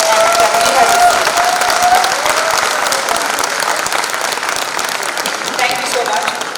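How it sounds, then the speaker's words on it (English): Sustained applause from a large audience at a Rotary district conference hall, loud and steady throughout with a few shouts and voices mixed into the clapping. "give them a big clap for all the love that we have received"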